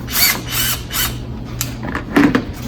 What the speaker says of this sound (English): So unscrew, screw back in.